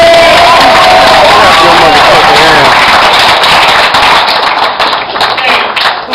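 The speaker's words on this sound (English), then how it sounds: "I appreciate the clap." An audience at a comedy club, the Comedy Store, claps and cheers loudly in a dense, steady wash of applause that thins slightly toward the end.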